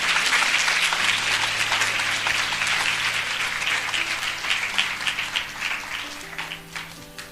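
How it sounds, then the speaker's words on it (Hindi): A church congregation claps together after a Bible verse is read, a dense burst of applause that starts loud and gradually thins and fades, with faint sustained keyboard tones underneath. "आइए हम इस वचन के लिए अच्छी ताली बजाएंगे।"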